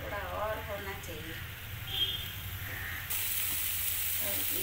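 Masala spices frying in a pan for egg curry give off a steady, moderately loud sizzle that brightens partway through, with a voice faintly audible at the start.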